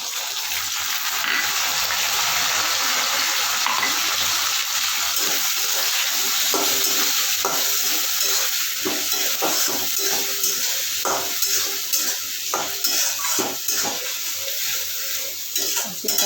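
Onion paste goes into a pan of frying potatoes for a fish roe curry and is stirred, a loud continuous sizzle broken by scraping strokes that grow more frequent toward the end, with nobody speaking.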